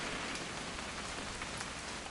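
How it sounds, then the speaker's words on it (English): Steady rain falls in the game What Remains of Edith Finch, a soft, even hiss of drops on a surface heard alone without any voices. "It's gonna rain the whole weekend, isn't it?"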